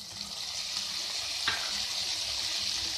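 Chopped tomatoes frying and being stirred in a pan while cooking vermicelli upma, a steady soft sizzle throughout with one brief scrape of the spoon midway.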